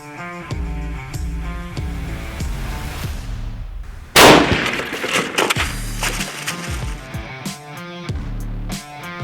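A single sharp, loud gunshot as a Hammer hollow point bullet is fired into a gel block, cutting through steady background music, with a brief echoing decay afterward.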